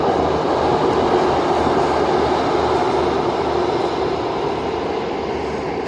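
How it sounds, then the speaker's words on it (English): A train passes close by at night, a continuous loud rumble of rail cars with a faint clickety-clack running through the whole stretch. "More trains."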